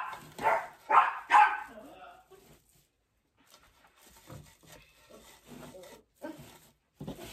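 Dogs bark indoors in a few sharp woofs at the start, followed by quieter rustling and handling sounds with occasional bursts later.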